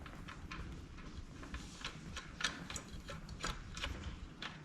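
A wrench tightens the nut on a boat propeller during a prop change, giving a close, quiet run of irregular ratcheting clicks and ticks.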